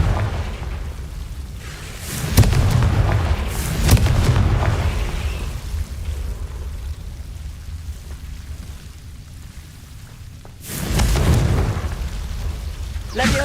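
Confringo blasting spells in Hogwarts Legacy go off as several heavy booming explosions, two close together early and another near the end, each rumbling briefly over a low, noisy background.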